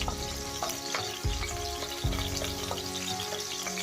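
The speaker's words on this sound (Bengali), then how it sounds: "এখানে আমার কেটে রাখা কাঁচা লঙ্কা তেলের উপর দিয়ে দেব, দিয়ে একটু নেড়ে নেব" Chopped green chillies sizzle and crackle in hot oil, with a few spoon stirs scraping the pan, close and steady, with no talking.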